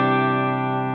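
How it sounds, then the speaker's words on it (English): A sustained, heavily effected guitar tone rings out through a Joyo Meteor pedal's reverb on the modulate setting, a steady, shimmering, slightly wavering wash across the whole second. "And let's add some reverb to that as well."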